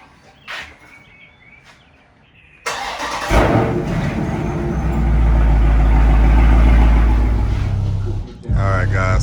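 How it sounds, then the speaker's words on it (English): A Dodge Charger's engine cranks and catches, settling into a loud, steady idle with a deep rumble; brief knocks and movement sounds come before it starts. "Let me go ahead and crank the car up really quick"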